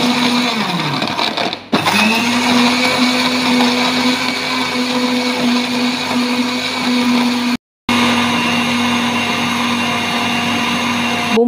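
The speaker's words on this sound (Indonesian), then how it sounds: "Jangan lupa ya, sebelum digiling kasih air dulu ya." Countertop blender grinding garlic, cumin and coriander with water, a loud steady motor whir that runs continuously with two brief cut-outs where it stops and restarts, heard alone without talk.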